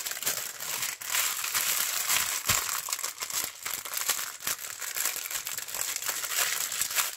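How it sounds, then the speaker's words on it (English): Plastic packaging crinkled by hand while unboxing Diamond Dotz diamond painting kits, a dense continuous close crackling and rustling with occasional sharper crunches, no talking. "let me finish crinkling."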